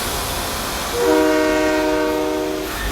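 A train rumbles along, then a loud multi-tone horn sounds for about two seconds over the steady rolling noise, fairly close.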